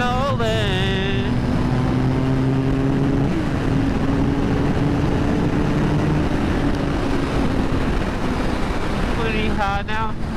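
A Suzuki GSXR750 motorcycle rides an open road, its engine whining and shifting pitch under heavy wind rush, with a rider's voice speaking over the noise.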